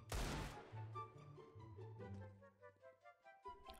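A short burst of CS:GO gunfire opens loud, then fades into quieter in-game clatter and tonal effects, with faint pulsing sounds at the end.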